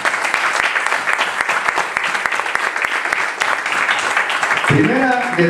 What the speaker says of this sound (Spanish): Dale un aplauso a Jesús, hermano.